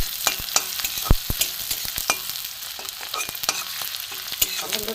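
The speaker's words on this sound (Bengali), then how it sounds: "পেঁয়াজ রসুনের কাঁচা গন্ধটা একটু ভাজা ভাজা হোক," Chopped onion and garlic fry in a pan while a spatula stirs them, giving a close, continuous sizzle punctuated by repeated knocks and scrapes against the pan, with no one talking.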